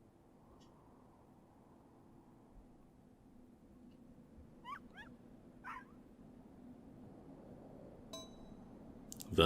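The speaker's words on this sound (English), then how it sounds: "That bark. It's a female dog." In the video game Tokyo Jungle, a female dog gives a few faint, brief yips over a low ambient hum, spaced seconds apart, with a soft clink near the end.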